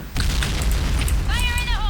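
An explosion in the online shooter Point Blank lands as a loud broadband boom with a rumbling tail, followed near the end by a voice.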